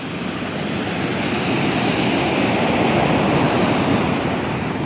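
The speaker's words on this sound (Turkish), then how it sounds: "Çünkü dalgalardan belli kuvvetli geldi." Continuous heavy roar of surf with dense broadband rush, steady and loud throughout, strong ocean waves breaking nearby with wind.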